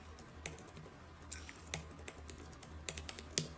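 Typing on a computer keyboard, scattered key clicks and taps at an irregular pace, close but quiet over a low steady hum, with no speech.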